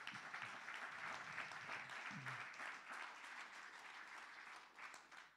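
A church congregation claps during a worship service, a steady, fairly faint wash of applause that lasts throughout and tapers slightly at the end.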